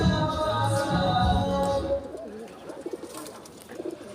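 Low, throaty cooing from pigeons nearby, a few soft repeated calls fading into quieter rustling and faint coos.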